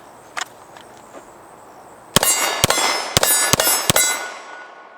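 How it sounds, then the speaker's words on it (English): Five quick, loud gunshots from a Canik TP9 Elite SC pistol, fired in close succession with ringing reverberation, after a few faint, distant clicks. "that is literally the first 5 shots I have taken out of this pistol"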